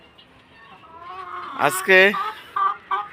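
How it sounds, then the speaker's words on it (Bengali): Brahma chickens let loose outdoors give a few short clucks amid a person speaking briefly, all close by. "আমার ব্রাহ্মা মুরগিগুলো বাইরে ছেড়েছি।"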